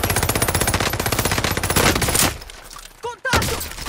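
Rapid automatic gunfire from the Call of Duty Modern Warfare video game, a loud, dense burst of repeated shots that cuts off abruptly, followed by a few scattered sharp effects.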